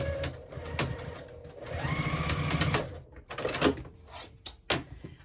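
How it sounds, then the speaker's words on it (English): A sewing machine runs in short bursts stitching a 3/8 inch seam along the bottom of a scrappy zipper pouch made from jelly roll strips, with whirring runs broken by pauses and light clunks of handling nearby. "I'm gonna sew at 3/8 inch seam allowance"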